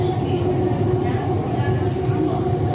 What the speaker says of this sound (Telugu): సో బయలుదేరింది ట్రైన్.